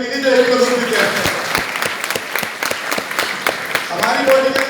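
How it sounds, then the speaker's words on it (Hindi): Loud, dense applause from an audience at a product training session fills the room, with many hands clapping steadily and a voice speaking over it at the start and end. "जोरदार ताली बजाइए उनके लिए जो 1 किलो दूध पीते हैं"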